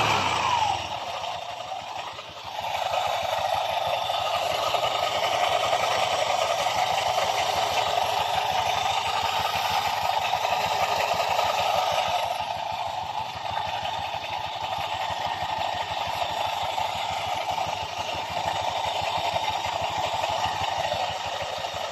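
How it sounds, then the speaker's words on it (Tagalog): A Honda Click 125 scooter engine idles in a workshop with its side cover open, a steady mid-pitched hum and clatter that runs continuously, dipping briefly early on and again midway. "Andar ng kanyang motor na naka-open ang panggilid."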